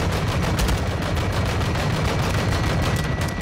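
Sustained heavy gunfire in Modern Warfare 2 video game, a dense continuous barrage of rapid automatic shots and blasts, loud and close throughout with no talking.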